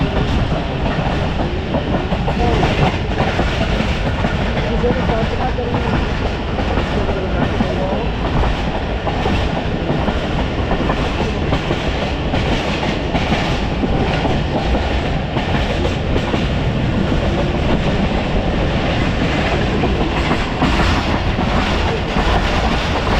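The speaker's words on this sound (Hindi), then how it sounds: "Badami Bagh railway station first time cross हो रहे" Tezgam Express passenger train running on rails near Badami Bagh station into Lahore, a steady loud rumble with rhythmic wheel clatter throughout, continuous and close.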